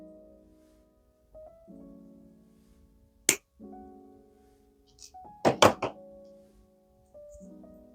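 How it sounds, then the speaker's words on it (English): Wire cutters snip the excess off a metal head pin while making a jewelry necklace: one sharp click, then a quick cluster of snaps, close and crisp over a faint background hum. "Leave enough room to make a loop, but cut off the excess of the head pin."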